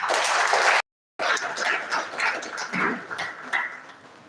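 An audience applauds at a conference on local governance and traditional institutions, dense clapping that breaks off abruptly, then resumes with scattered claps and cheers that fade out.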